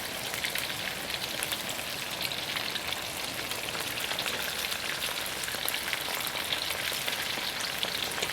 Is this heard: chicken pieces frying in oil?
yes